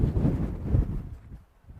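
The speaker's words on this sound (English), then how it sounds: "The wind is really picking up here." Wind gusts buffet the microphone at an outdoor baseball field, a low rumbling roar that swells and then eases off over a couple of seconds.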